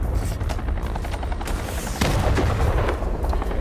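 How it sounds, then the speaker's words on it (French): Enemy missiles and gunfire in the XIII remake video game, a dense, loud continuous barrage of booms and shots with a heavier burst midway, no talk. "eux aussi ils tirent des missiles"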